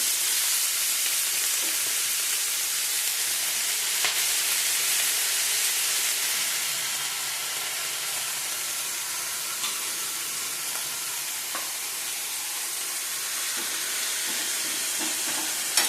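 Green chillies fry on a hot griddle for fenugreek kharda, producing a continuous close hissing sizzle with faint stirring clicks and no talking.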